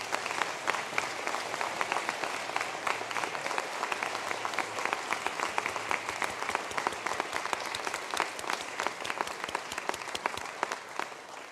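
Sustained audience applause at a university graduation conferring ceremony, a steady, moderately distant wash of many hands clapping throughout.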